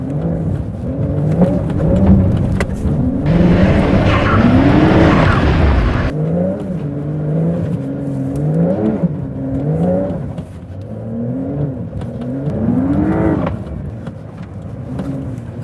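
A Porsche 911 Dakar drifts on open land in rally mode with traction control off. The engine rises and falls loudly through repeated revving sweeps, with tyres scrabbling and skidding, close and continuous.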